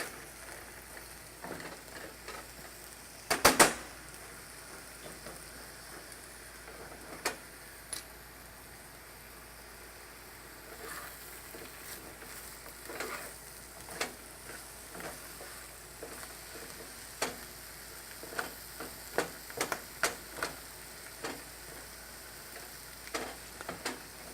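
Food frying in a pan is stirred steadily, making a continuous low sizzle with frequent scrapes and crackles and one loud clatter early on, close and with no talk.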